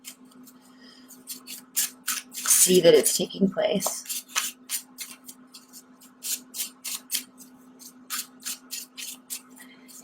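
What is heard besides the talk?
shuffling a deck of tarot cards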